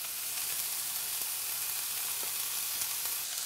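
Vegetables with bacon fry and sizzle in a pan, a steady bright hiss with faint scraping from stirring and no talk.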